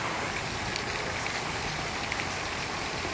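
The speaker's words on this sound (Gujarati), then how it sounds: "અરવલ્લીના ભિલોડા તાલુકામાં ધોધમાર વરસાદ" Heavy monsoon downpour in Bhiloda taluka of Aravalli, a dense, loud, continuous roar of rain beating on surfaces with no breaks and no voices.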